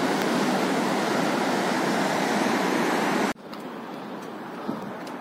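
The Bheri river in Dolpa, Nepal, rushes in a loud, steady, close roar along a mountain trekking trail, then cuts abruptly to a quieter, more distant wash of flowing water.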